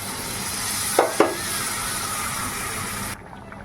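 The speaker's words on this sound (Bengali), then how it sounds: "একটু কষে নিই নিয়ে জল দিয়ে দেবো জল দিয়ে দিলাম" Water poured into shrimp curry with ridge gourd and potatoes in a hot pan brings a steady sizzle and hiss, two sharp splashy bursts near the start, then the sound drops away abruptly.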